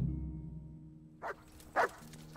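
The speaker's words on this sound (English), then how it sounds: "Shut up, dog." A dog in the video game Kingdom Come: Deliverance barks three short times at spaced intervals, following a low hum at the start, fairly quiet with no talk over it.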